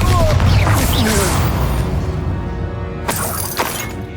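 A Bombarda blasting spell in Hogwarts Legacy shatters objects with a loud crashing smash and scattering debris, followed by further breaking impacts, close and dominant.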